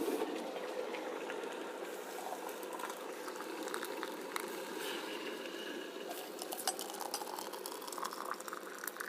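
Water bubbles at a gentle boil while chai brews, a steady soft simmering hiss with faint crackles and pops throughout, close and fairly quiet, with no one speaking.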